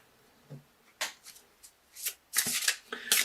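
Crystal Wisdom Healing Oracle cards by Judy Hall are shuffled by hand in several short riffling bursts, soft at first and then louder and denser toward the end, close and with no talk over it.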